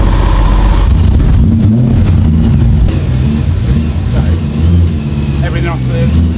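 A BMW E30 M3 with an S65 engine, jacked up with its wheels off the ramp, runs with a loud, steady low rumble throughout while people talk nearby.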